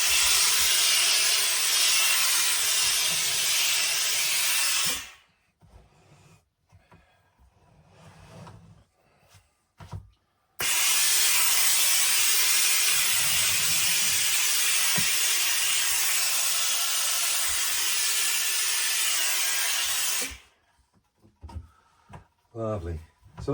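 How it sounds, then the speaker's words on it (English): Steady loud hissing of steam applied to a felt trilby hat for about five seconds, a quiet pause with small handling noises, then another long hiss and a short quiet stretch. "What we're going to do is put a bit more steam on it."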